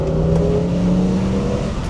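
An Audi RS6 C6 with a twin-turbo V10 driving through woods, its engine a loud, steady, close drone with a smooth held tone, no talk over it.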